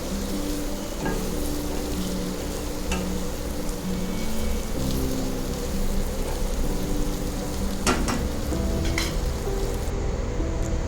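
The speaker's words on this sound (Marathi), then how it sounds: "गरम मसाला सर्व घालून छान मिक्स करून घ्यायचे" Ivy gourd being stirred with spices in a hot pan, a steady close sizzle and crackle of frying with occasional scraping clicks from the stirring, no talking.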